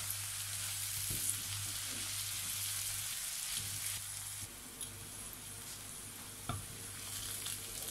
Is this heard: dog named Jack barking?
no